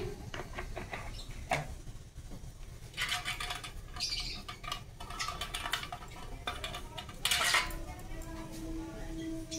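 A steel container handled while white oil is added, close metallic clinks and scrapes with a couple of louder clatters over low background noise.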